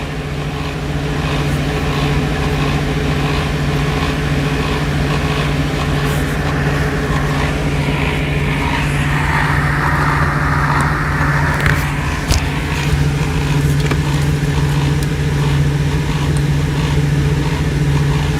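A semi truck engine idles with a steady low drone and throbbing hum, then builds slightly as the rig pulls forward, continuous and close throughout.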